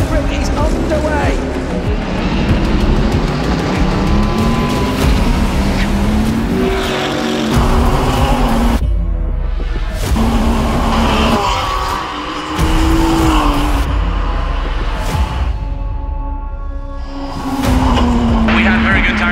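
Race cars roar off at the start of the Nürburgring 24 Hours, engines rising and falling in repeated sweeps as they accelerate past, loud and continuous, with a voice talking over the noise.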